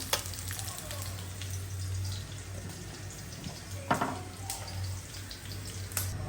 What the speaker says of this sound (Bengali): এখানে মুড়াটা আমি হালকা তেলে ভাজবো।